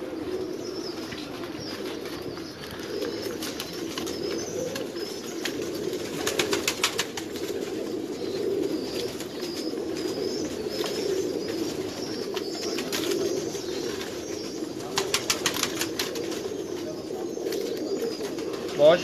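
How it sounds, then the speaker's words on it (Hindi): Pigeons at a loft in Lahore coo low and soft in a steady murmur, broken by two brief bursts of wing flapping, while faint talk runs under them. "ये देखें कितना खूबसूरत कबूतर है।"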